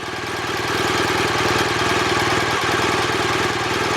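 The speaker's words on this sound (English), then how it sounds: "you should be able to feel the bike just starting to pull away" A motorbike engine runs loud and close at a steady, even note as the clutch starts to bite and the bike begins to pull away, with no talking over it.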